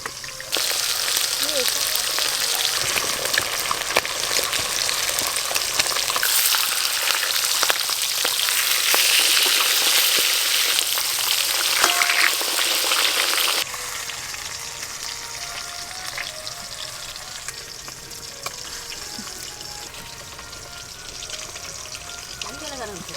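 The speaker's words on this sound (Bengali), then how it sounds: "মাছ লাল লাল করে ভাজা হয়ে গেছে" Large pieces of live catfish fry in hot oil in a pan, a continuous loud sizzle with crackling and spattering that drops to a softer, steadier frying hiss partway through.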